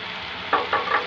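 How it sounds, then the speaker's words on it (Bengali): Chicken mince and onion fried in a pan until browning, for a homemade pizza topping: a soft continuous sizzle with three quick close stirring scrapes in the second half. "এগুলো আস্তে ব্রাউন করা পর্যন্ত ভেজে নিতে হবে"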